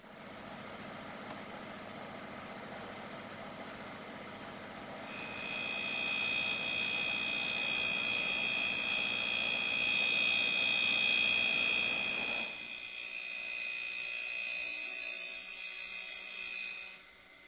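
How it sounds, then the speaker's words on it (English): A Darex E-90 end mill sharpener runs with a steady motor drone, then a bright high grinding whine rises over it as an end mill's secondary clearance angles are sharpened, close and continuous before dropping back near the end. "we reposition the spindle and sharpen the secondary clearance angles on the end"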